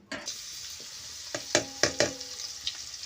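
Cabbage sizzles in hot oil while being stirred, with a few sharp scraping clanks of a utensil against the pan near the middle.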